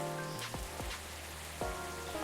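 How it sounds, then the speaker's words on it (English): Steady rain falls throughout as a dense, even wash, with occasional low thumps and sweeping tones over it; no one speaks. "the rain in the background, it is a bit overpowering, isn't it?"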